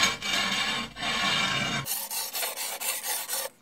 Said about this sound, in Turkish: Herhangi bir taşın üzerine su döküyoruz birazcık ve bunu şu şekilde sürtüyoruz.